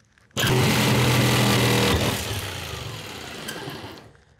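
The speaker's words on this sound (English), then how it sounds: "jigsaw is going to go through that without tearing up the blade" Jigsaw cutting through material: a loud, close motor buzz with rapid blade chatter that starts abruptly, then drops in pitch and loudness as the cut bogs down, and cuts off near the end.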